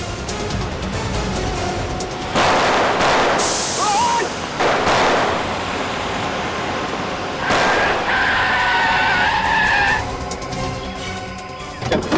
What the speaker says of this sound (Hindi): चला दे गाड़ी दोनों में